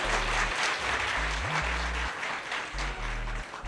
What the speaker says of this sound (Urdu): اس بات پہ سب سے اونچی تالی بج رہی ہے